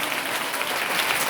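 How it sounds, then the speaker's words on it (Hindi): Steady applause from a church congregation during a Hindi sermon, even dense clapping throughout without gaps, fairly close and uniform in loudness. "ताली बजा के"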